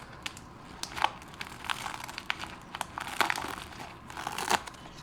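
A dead leaf from a golden dragon plant is crumpled and torn by hand, giving close, dry crinkling and crackling in irregular bursts with louder snaps, no talking.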